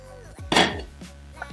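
A pan and utensils clatter while shrimp scampi is served in a home kitchen, with one loud metallic scrape in the middle and a few lighter clinks and knocks around it.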